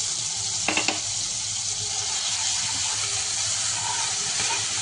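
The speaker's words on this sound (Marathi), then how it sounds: "पेस्ट थोडी परतवली" Ginger garlic paste sautéing in melted butter for street-style pav bhaji makes a constant, close hiss and sizzle with a couple of brief scraping taps near the start.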